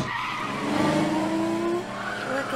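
Tires of a cartoon car skidding in Family Guy, a loud sustained squeal lasting a couple of seconds over engine noise.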